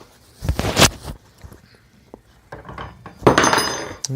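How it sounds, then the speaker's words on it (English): A spoon drops and clatters among dishes and pans in two bright metallic bursts, close by, with quieter handling sounds between them. "Drop my spoon. Damn it."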